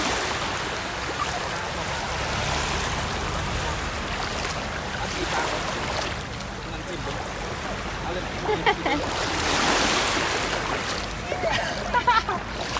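Sea waves wash steadily onto a beach where young children are at the sea for the first time, a continuous broadband surf rush with louder swells near the end, under children's and adults' voices talking.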